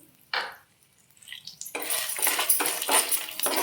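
Spices frying in oil in a pan for vangi bath powder: one short sizzle, a quiet gap, then a steady hissing crackle that builds and stays loud with small popping bursts, no voice.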